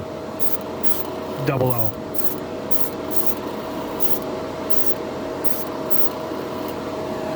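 A Harbor Freight airbrush running off its compressor sprays paint onto a plastic figure in short, repeated hissing bursts over a constant mechanical hum, with a voice briefly heard in between.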